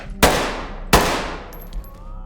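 Two single gunshots crack out about 0.7 seconds apart in the tactical shooter Ready or Not. Each is loud and sharp with a long ringing decay, and no voices are heard.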